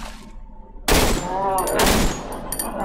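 In the video game Cry of Fear, loud close gunfire erupts in a dense burst of rapid shots, over a low rumbling background, and a voice is heard speaking during it.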